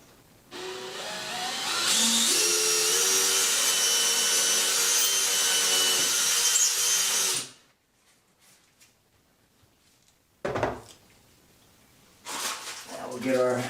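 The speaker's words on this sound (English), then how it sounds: "we'll go ahead and get this drywall drilled out." A power drill with a Phillips bit bores into drywall while a towel bar is being mounted. A loud, steady whine runs for about seven seconds and then stops abruptly. Quiet follows, then brief handling noises and a voice.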